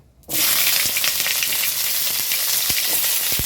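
Pieces of raw green jackfruit and potato frying in hot mustard oil, a loud, steady sizzle that starts abruptly as they hit the pan, with occasional sharp pops and spatters.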